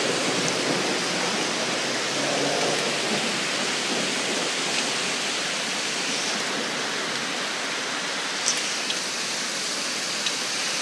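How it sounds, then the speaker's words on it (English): Steady heavy thunderstorm rain hisses loudly and evenly throughout over a parking lot, with no voices, just the constant wash of water falling close by. "We got lightning and thunder."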